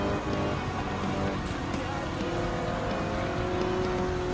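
Race cars roar around a Gran Turismo 7 circuit, a 2002 Honda NSX among the pack, their engines a steady, dense drone that never lets up, with a voice speaking over the racing.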